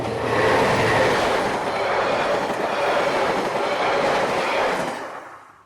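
Railway carriages chartered for an excursion run along the line in New Zealand, a close, steady rumble with wheel clatter and squeal that fades away at the end.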